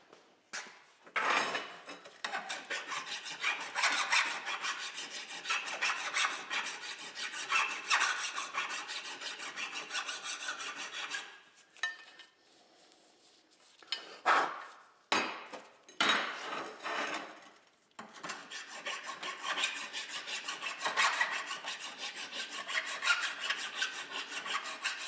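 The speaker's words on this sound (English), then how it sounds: "So I'll grab a flat file." A flat file rasps back and forth over a metal chassis part of a Model TT build to remove burrs, giving repeated scraping strokes in uneven bursts with brief pauses, fairly close.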